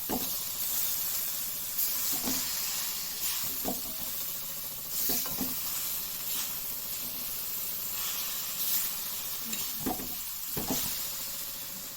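Semolina and chopped coconut fry in a pan for laddoos, giving a continuous close sizzle and hiss with periodic scraping stirs of a spoon, and no talking.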